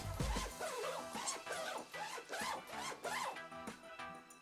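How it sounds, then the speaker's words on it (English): Zippers on a Squatch Link disc golf backpack are pulled open and shut several times in a row, each pass a quick, close, rasping zip, loud and alone. "Also the zippers, these things, super smooth."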